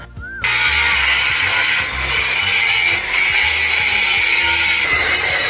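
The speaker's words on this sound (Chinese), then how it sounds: "师傅还需要对焊巴进行打磨光滑" Angle grinder smoothing a weld bead on a steel truck leaf-spring suspension bracket in a Pakistani repair shop, a loud, steady high-pitched grinding whine that starts abruptly and runs continuously with slight dips in pitch as pressure varies.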